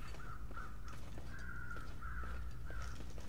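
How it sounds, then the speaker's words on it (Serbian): Crows cawing in the survival game The Long Dark, several drawn-out caws in a row over a low wind-like background, fairly faint and distant. "Ove vrane se nešto vrte tu,"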